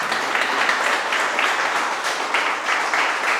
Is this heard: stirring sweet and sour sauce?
no